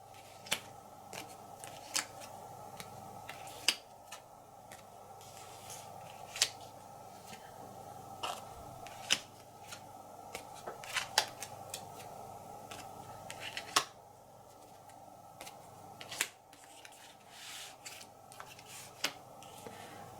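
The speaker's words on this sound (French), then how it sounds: "là, on pioche 8 cartes." Playing cards are drawn and handled for a solo board game about Hadrian's Wall, with scattered soft snaps, slides and taps of the cards at close range in a quiet room, without speech.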